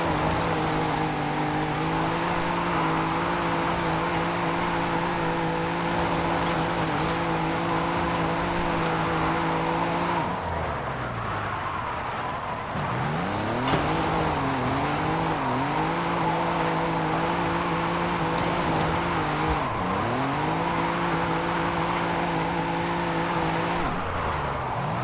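Engine of a 1982 Volkswagen pickup with a rear-wheel-drive drift tune, held in second gear while drifting, giving a steady loud drone with pitch dips and swells as the revs rise and fall, plus broadband tire noise throughout.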